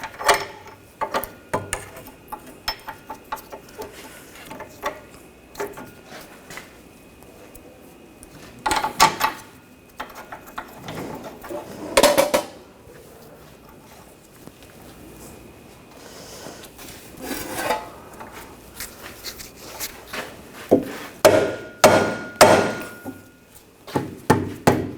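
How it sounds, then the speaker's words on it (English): A pry bar levers the lower control arm on a 2014–2020 Nissan Rogue during a rear CV axle job, giving irregular metallic clanks, creaks and clunks in scattered bursts, close up with no talk. "just use a pry bar. Just try to work this back and forth a little bit."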